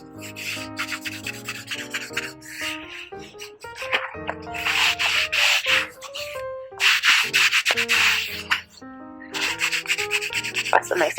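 A sponge rubs and polishes a pair of shoes to a shine in quick, close back-and-forth strokes, with squeaky, scrubbing friction that rises and falls without pause.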